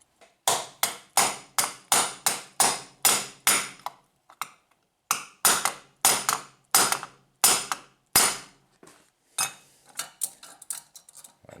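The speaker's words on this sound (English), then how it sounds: "I'm just going to hammer it in with this" A hammer drives a big bolt with a nut into a fitting over a bearing: loud, sharp metallic blows in quick, even runs of about a dozen strikes, a brief pause, then more bursts, some lighter taps at the end.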